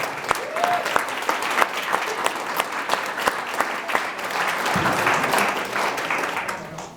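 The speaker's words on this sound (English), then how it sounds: "Let's give one round of applause for our civic and elected leaders again." A live audience at a San Mateo County civic gathering claps steadily for local civic and elected leaders. The dense crowd applause runs throughout with sharp individual claps standing out, then swells slightly louder toward the end.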